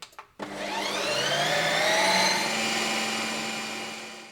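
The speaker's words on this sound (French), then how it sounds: "Et là, je lance le programme Ice Cream." An ice cream machine running its Ice Cream program starts with a click, then a steady loud whirring blend of frozen ingredients drones on continuously, close and alone.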